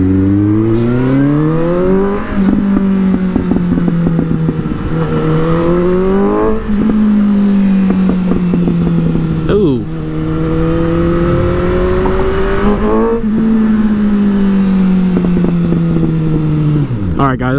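A Suzuki GSX-S750 motorcycle engine revs and shifts through gears on the road, loud rising and falling drone heard from the rider's position with repeated climbs, while a voice briefly exclaims.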